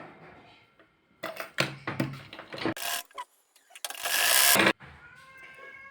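A sewing machine runs in short bursts, stitching lengthwise along the neckline of a garment being made. Mechanical whirring comes in two main runs with pauses and softer handling noises between them.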